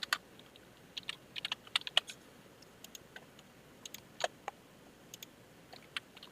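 Computer keyboard typing: irregular bursts of crisp, close key clicks with short pauses between runs, fairly quiet and with no voices.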